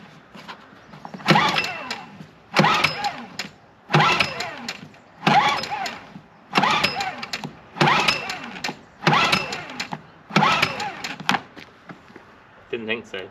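A small petrol water pump engine with its choke on is pull-started by cord, giving about seven rough, close rasping pulls at steady intervals of just over a second, none settling into a running idle.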